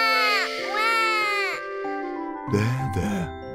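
Cartoon baby Peppa Pig cries loudly in an old home video, giving long wailing sobs that rise and fall, then pause briefly before a fresh burst of crying.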